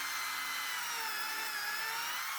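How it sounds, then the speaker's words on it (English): A power drill boring pocket holes in 3/4 inch plywood through a pocket hole jig gives off a steady, high-pitched whine that holds without a break for just over two seconds, with no voices. "I set my pocket hole jig for 3/4 inch material and drilled a pocket hole at each mark."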